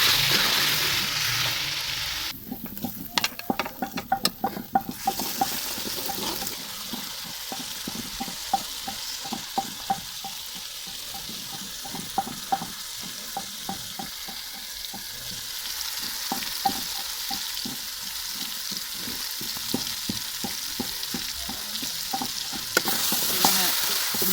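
Ginger, garlic and green chili paste sizzling in a pan with repeated stirring clicks of a spoon, continuous frying hiss throughout, close and moderately loud.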